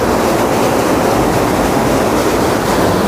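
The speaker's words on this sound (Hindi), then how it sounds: "आप लोगों को आवाज़ आ रही होगी पानी की" Loud, constant roar of rushing water filling the whole scene, a dense unbroken wash of noise like a fast current or cascade nearby.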